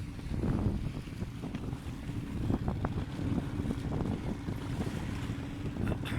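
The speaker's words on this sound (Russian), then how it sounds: "О, волна идет." Wind and storm waves on the water by a dam where people fish for zander, a low rumbling churn buffeting the microphone with irregular splashes and gusts throughout, fairly faint, no talk.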